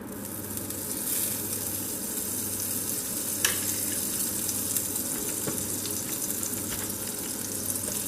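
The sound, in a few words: butter sizzling in a hot frying pan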